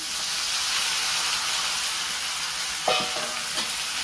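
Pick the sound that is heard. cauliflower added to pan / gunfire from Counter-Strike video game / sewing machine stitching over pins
cauliflower added to pan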